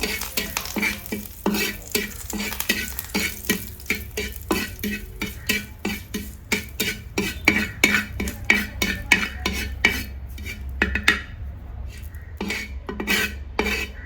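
Curry leaves roast and crackle in a hot pan while a spoon stirs and scrapes in quick repeated strokes, a soft sizzle running underneath the clatter.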